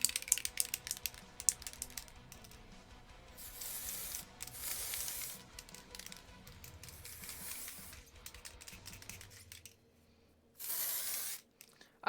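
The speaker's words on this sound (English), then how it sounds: "This is just a black hairspray, by the way." Black hairspray hisses onto hair in several bursts of varying length, separated by quieter rustling and clicking, with no talking.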